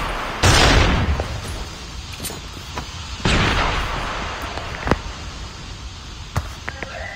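Gunfire in a Mac 10 duo-versus-squad shooter game: two loud booming blasts followed by several sharper, scattered single shots of varying distance over a steady background.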